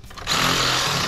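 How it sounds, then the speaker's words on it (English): A reciprocating saw bites into a wooden bottom plate while a window is converted into a sliding glass door. After a short quiet lead-in, a loud, steady buzzing rasp starts up and runs unbroken to the end. "we're actually gonna cut this bottom plate out using a reciprocating saw"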